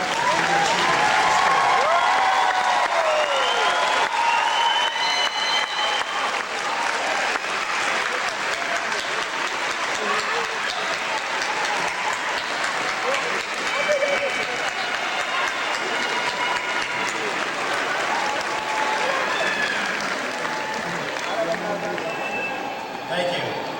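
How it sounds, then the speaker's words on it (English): Large graduation ceremony audience applauding, a sustained dense wash of clapping mixed with cheering and crowd voices that stays loud and steady throughout. "Graduates, please rise and give a round of applause to all those people in your life who have helped you achieve this"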